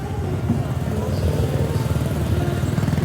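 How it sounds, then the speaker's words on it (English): Motorcycle engines rumble past on a road in Lapu-Lapu City, Philippines, a steady loud growl throughout with speech-like voices mixed in. "these motorcycles are passing him on the left"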